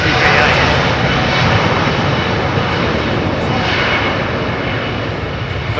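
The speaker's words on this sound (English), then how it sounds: "The 330neo, very popular aircraft now." Virgin Atlantic Airbus A330neo jet airliner at Heathrow, a loud, steady broadband engine roar that stays close and sustained throughout, with no speech.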